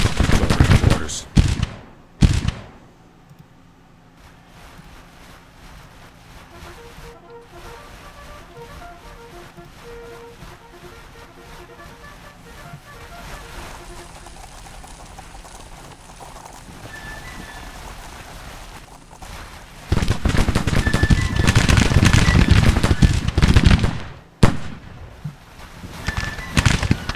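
Scattered musket and rifle volleys crackle from a Civil War strategy game battle, with faint distant pops and rattles through a long quiet stretch, then a louder burst of heavy firing near the end.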